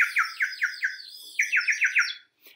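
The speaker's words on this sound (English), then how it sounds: "the birds were tweeting" Birdsong in a short series of bright, descending chirps, two runs of five or six notes each with a brief pause between, clear and fairly close with no other sounds.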